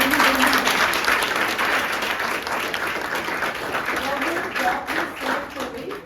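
Steady applause from a crowd, dense clapping that continues throughout without a break.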